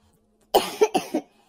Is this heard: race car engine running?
no